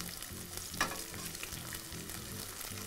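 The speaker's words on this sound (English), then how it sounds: "Just let these fry for just another 20, 30 seconds." King trumpet mushrooms fry in oil, a faint, steady sizzle and crackle with soft stirring sounds, heard alone without talk.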